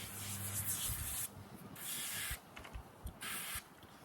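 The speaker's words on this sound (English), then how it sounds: "I just spray it. I mean, I spray everything." A spray nozzle hisses out foam cleaner onto a Traxxas Slash RC car's tires and wheel wells in several bursts of a second or so each, close up, with quiet gaps between them.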